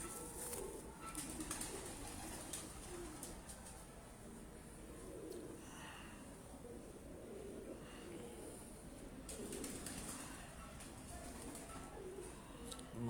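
Pigeons coo on a rooftop, soft repeated throaty calls over steady outdoor background noise, with occasional wing flutters.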